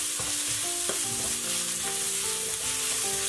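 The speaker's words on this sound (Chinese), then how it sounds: "倒入香菇，继续翻炒均匀，把香菇炒软，炒至断生" Shiitake mushrooms stir-fried in a wok, a loud close sizzle mixed with scraping and clattering from a spatula tossing them, with faint ringing metallic tones over the hiss.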